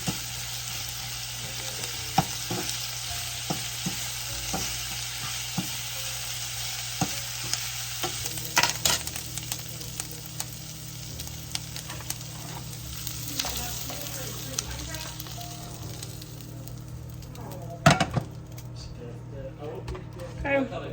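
Leftover hamburger sautéing in a pan with ketchup and Worcestershire sauce, a continuous frying sizzle with repeated utensil scrapes and knocks while someone talks over it throughout.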